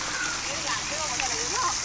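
Rain falls steadily at an outdoor picnic spot, a constant close hiss throughout, with people talking over it.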